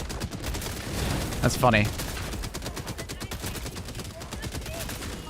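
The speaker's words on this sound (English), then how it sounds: "Is the rocket launcher really trying to shoot through terrain?" Rapid weapon fire in Helldivers 2 with a rocket launcher in the mix, dense bursts and booms running throughout, and someone briefly speaking near the start.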